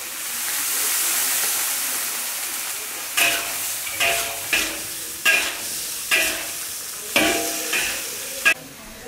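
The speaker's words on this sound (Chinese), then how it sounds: "然后我们现在要加入一点啤酒" Beer hits a hot wok of shrimp and green chili with a loud, steady sizzle and hiss. Then about half a dozen rhythmic spatula scrapes and stirs follow, close and clear, with no talking.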